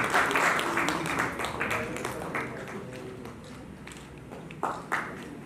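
Audience applause at an awards ceremony honouring a member of parliament from Saharanpur, dense clapping filling the hall from the start and slowly thinning, with voices talking over it.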